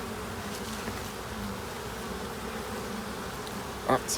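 Honey bees buzz around an opened hive: a faint, steady hum holds throughout, with a brief louder buzz near the end as a bee passes close.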